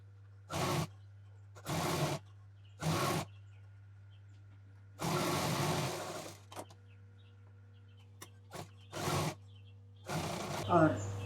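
A sewing machine stitches the border of a fabric cover made from leftover pieces, several short separate whirring bursts plus one longer run, close and clear over a steady low electrical hum.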